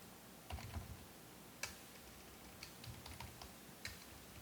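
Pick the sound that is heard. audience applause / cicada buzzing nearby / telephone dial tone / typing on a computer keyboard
typing on a computer keyboard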